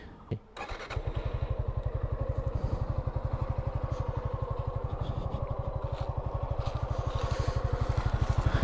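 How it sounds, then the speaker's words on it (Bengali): A brand-new Suzuki Gixxer 155 FI ABS naked motorcycle with about 3 km on it starts up after a brief crank, then settles into a steady, even, close idle that thumps rhythmically throughout. "এটা হচ্ছে বাইকের ইঞ্জিন সাউন্ড।"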